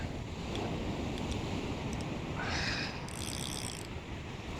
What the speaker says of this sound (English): those waves are certainly dumping when they come in.